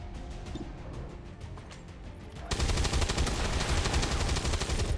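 Rapid gunfire in XCOM Long War 2 aimed at an enemy turret, a softer run of shots giving way to a dense, loud burst of repeated shots and impacts in the second half.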